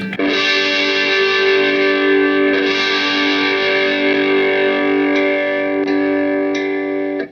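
A Yamaha Revstar electric guitar with its dry switch engaged rings out a loud, sustained distorted chord with effects, holding steady for several seconds before cutting off, with no voices.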